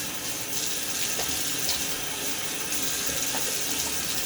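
A double-edge razor, a Gillette New de Luxe loaded with a Personna Platinum blade, is rinsed under a running tap, giving a steady, close rush of water throughout with no talking.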